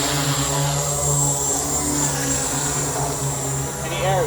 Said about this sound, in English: Armed. The drone is armed.